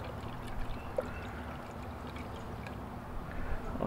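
Wash water poured over cement silver to rinse out blue copper nitrate, a low steady splashing pour with faint trickling, close and continuous.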